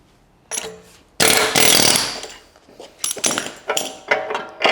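Loud bursts of a pneumatic air hammer knocking out a ball joint on a BMW 850i V12, rattling in several short runs with brief pauses between, close by.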